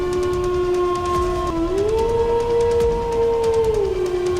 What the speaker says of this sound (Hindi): भेड़िया गौरी की तरफ देख के दहाड़ता है